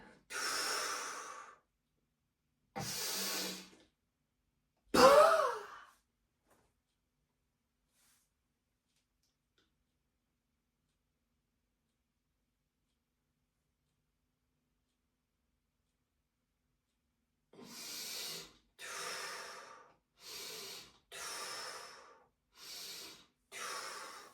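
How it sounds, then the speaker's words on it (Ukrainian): Sharp, forceful exhales through the nose and mouth during a breathing exercise for the face: three separate bursts early on, a long silence, then six quick rhythmic puffs near the end, close and clear. "Видих."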